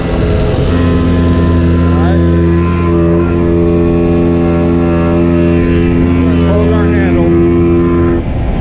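A pump on an oilfield trailer transferring freshwater hums loudly and steadily with a strong tonal drone, running continuously throughout.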